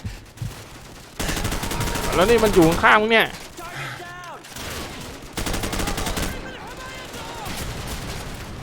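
Gunfire in the video game Call of Duty Modern Warfare, bursts of automatic weapon fire and shots running throughout, loud and close, with excited players talking over it.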